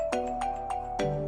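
A phone ringtone plays a repeating electronic melody of clear, close tones in a steady rhythm, with no talking over it.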